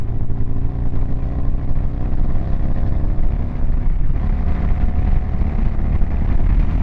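A Harley-Davidson Sportster 883 with a Hammer Performance kit, ridden on a cold highway, pulls hard with a steady, loud, continuous engine drone and wind rush. The engine sounds close and stays strong throughout, with no talking.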